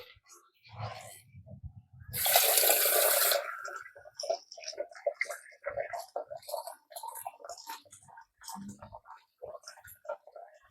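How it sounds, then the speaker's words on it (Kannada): Cooked vermicelli is rinsed under cold running water in a home kitchen, with a brief loud gush of water that lasts about a second, while someone talks before and after it. "ಇದನ್ನೀಗ ನಾನು ತಣ್ಣೀರಿನಲ್ಲಿ ವಾಶ್ ಮಾಡ್ಕೊಳ್ತೀನಿ"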